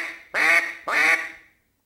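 Two drawn-out, nasal quacks blown on a duck call, each a burst of rapid notes in one breath, close and loud with a short gap between, then silence.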